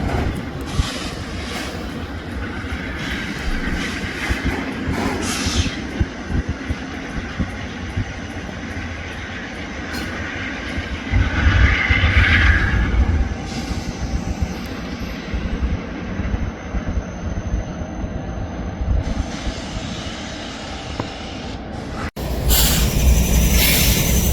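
An intermodal freight train led by locomotive 203 rolls by close at hand, a long continuous rumble with rail clatter and wheel squeal that swells midway, drops off sharply, then returns loud near the end.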